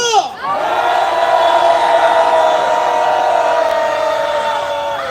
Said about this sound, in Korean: 함성 한번 질러보겠습니다